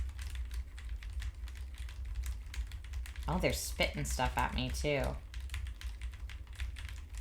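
Rapid, continuous clicking of fingers typing on a computer keyboard, heard close; a voice briefly talks over the keystrokes midway.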